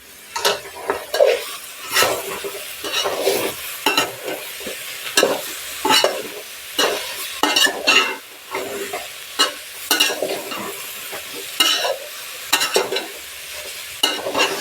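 Mixed vegetable masala for a Maharashtrian Bhogi rassa bhaji is stirred in a pan as it fries, giving repeated scraping strokes over a steady sizzle, close and fairly loud with no talking.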